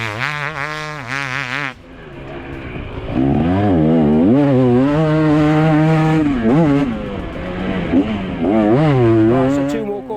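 A KTM, Husqvarna or Gas Gas motocross bike with stage 1 suspension upgrades rides a dirt track, its engine droning and revving steadily with rising and falling pitch, loud and close almost throughout after a brief opening burst.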